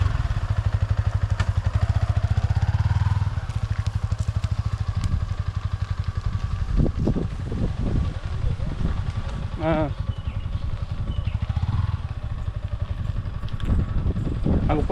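A Yamaha R15 motorcycle engine runs close by, a steady low rumble with some clatter and thumps, while people talk over it.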